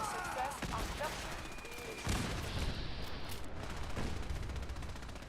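Gunfire in the video game Fallout 4 comes as a series of sharp, loud shots and bursts spread through the clip over a noisy, busy background.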